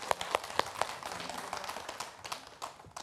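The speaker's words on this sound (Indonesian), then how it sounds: "Tepuk tangan buat Habib Muhammad Syahab." Audience applauding for Habib Muhammad Syahab at an Islamic talk show, a few sharp distinct claps at the start followed by softer, scattered clapping that fades.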